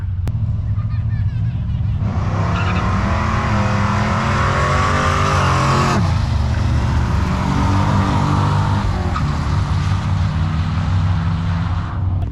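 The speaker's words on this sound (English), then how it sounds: "Alright, Pi's first drag race." Turbocharged 2JZ-engined car at a drag strip, its engine roaring loud and close as it launches and accelerates hard, the pitch climbing through gear changes around the two- and six-second marks, then holding a sustained high-revving drone.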